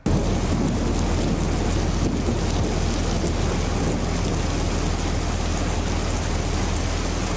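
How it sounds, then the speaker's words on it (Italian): Heavy downpour during a mountain storm in the Boite valley, a dense, steady roar of rain with a deep rumbling undertone, loud and unbroken throughout. "In un attimo il cielo torna a incupirsi, piove a dirotto"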